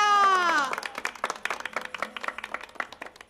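An audience applauds at a comic Marathi stage play, a sustained patter of many hands clapping after a drawn-out voice at the start, moderately loud and fading slightly.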